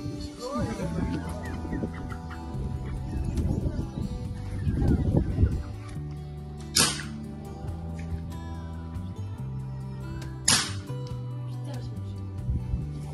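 Farmyard chickens cluck and murmur close by through a long stretch, with a couple of sharp, brief noises partway in and voices talking over the birds.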